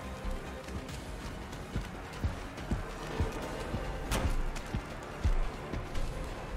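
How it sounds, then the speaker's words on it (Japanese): Footsteps in the video game Dead by Daylight: a steady series of loud, close thudding steps at a running pace over a noisy ambient bed, with no talking. "足音でかくね。 めっちゃ聞こえるけど。"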